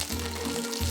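Zucchini slices sizzle in hot olive oil in a pan, a steady close frying hiss with a low hum underneath, continuous through the moment.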